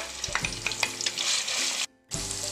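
Whole garam masala and ginger fry in hot oil, giving a dense, close sizzle with scattered crackles and stirring clatter that cuts out briefly near the end before resuming.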